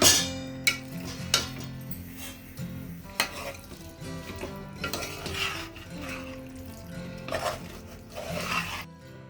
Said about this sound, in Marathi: आता आपण याच्यात कलेजी ऍड करूया आणि बारीक गॅस करून ढवळून घेऊया